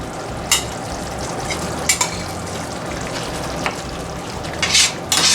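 Cooked leftover roast lamb is stirred into a pasta sauce in a pan, giving a steady close sizzle and frying hiss broken by a few sharp clanks of the spoon against the pan.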